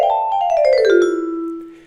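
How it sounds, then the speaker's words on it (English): Vibraphone-style notes played on a virtual instrument in the BandLab music app, a quick run of clear bell-like tones sliding downward and ending in one sustained, slowly fading note, alone and close. "So a vibraphone, for example,"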